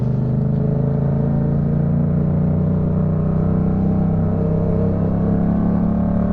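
A Yamaha MT-07 motorcycle engine drones steadily and loudly while riding at night, a low throbbing hum with rushing wind and no clear revs or gear changes, and no talking.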